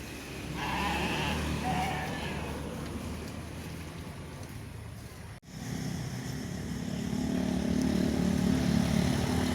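Goats bleat at a sacrificial goat market in Jember, loud calls in the first seconds over a busy open-air bed of crowd and vehicle noise.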